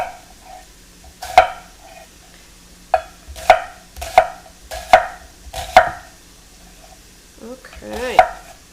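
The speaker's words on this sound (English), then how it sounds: "I'm going to just watch the bacon while I'm cutting my onions." A knife chops onions on a cutting board in a handful of sharp, close thuds at irregular intervals, with bacon cooking quietly in the background.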